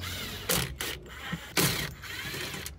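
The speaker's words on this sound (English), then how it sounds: "Let's take some bolts out and see what happens." A ratchet removes bolts from a big 10k–12.5k quiet diesel generator, heard as two short close bursts of clicking with a low mechanical hum beneath and no talking.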